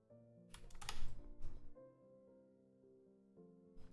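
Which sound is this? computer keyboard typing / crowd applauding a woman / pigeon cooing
computer keyboard typing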